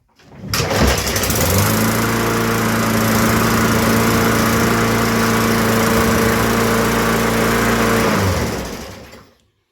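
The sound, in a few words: Yard Machines lawn mower engine running, self-propel drive tested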